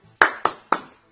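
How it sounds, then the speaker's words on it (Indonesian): Three crisp, loud classroom hand claps in a quick rhythmic pattern, close and clear with short pauses between them, part of a teacher-led spirit cheer routine. "Ustazah akan mengecek semangat kalian dengan tepuk semangat"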